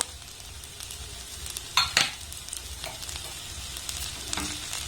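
Mustard oil heats in a pan with a steady low sizzle, broken by a couple of brief sharper crackles and a clink near the middle, close by with no voices.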